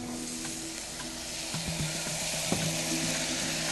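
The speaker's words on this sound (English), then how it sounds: "you can see that sizzling real nice, getting real soft" Garlic and softening vegetables sizzle steadily in a hot pan, a dense continuous frying hiss with a few light clinks of stirring and no talking.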